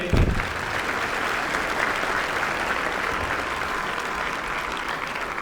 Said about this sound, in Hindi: मैं चाहूँगा उस टीम के लिए एक बार जोरदार तालियां हो जाएं।